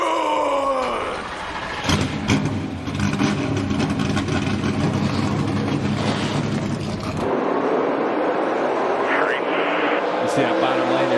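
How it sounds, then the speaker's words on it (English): NASCAR Xfinity stock car engines at Dover firing up and revving, a dense mass of roaring engines that swells loudly, then drops to a lower rumble as a voice is heard over it. "Drivers, start your engine!"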